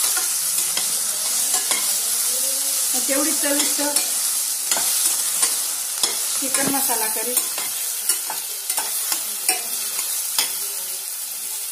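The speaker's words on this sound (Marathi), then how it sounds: "ब्राउन होऊ द्यायचे कांद्याला." Onions fry in a pan for chicken masala curry, a continuous sizzle broken by repeated scraping strokes of stirring, close and clear, with someone speaking briefly over it.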